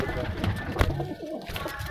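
Prized pigeons give soft low coos close by, partly under someone talking over them.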